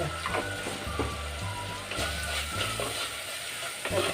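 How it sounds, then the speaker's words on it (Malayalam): Onions sautéing for a Kerala-style fish curry give a steady, close frying sizzle with soft stirring scrapes running continuously throughout. "ഉള്ളിയൊക്കെ ഒന്ന് വാടി ഒന്ന് നമുക്കൊന്ന് വഴറ്റിയെടുക്കാം"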